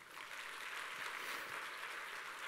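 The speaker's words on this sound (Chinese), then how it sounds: "我们给 Hemohim 一个掌声。" Audience applause during a company introduction talk, a dense steady burst of many hands clapping together, moderately loud and uninterrupted for a couple of seconds.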